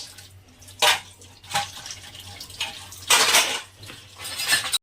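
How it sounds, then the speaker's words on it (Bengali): Dishes and pots being scrubbed and washed by hand in a home kitchen, with bursts of running water and clattering metal utensils and pans, loud and close, in uneven rhythm. "এই যে মামের বাসন মাজা প্রায় শেষ"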